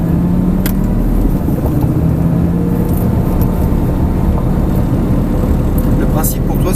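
Lamborghini Gallardo driven on a track, a loud constant engine drone with a rising tone as it accelerates, heard from inside the car while an instructor talks over it.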